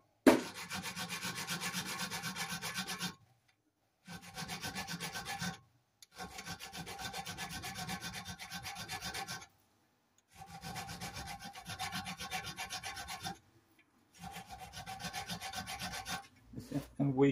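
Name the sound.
filing the top off a metal pin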